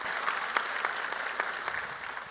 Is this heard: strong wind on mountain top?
no